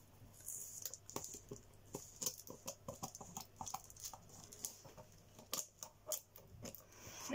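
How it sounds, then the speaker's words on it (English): Scissors slide through the seal of a 2001 WOTC Harry Potter Quidditch Cup booster box, giving a run of soft, irregular snips, clicks and crinkles, close and fairly quiet. "I'm just going to slide my scissors."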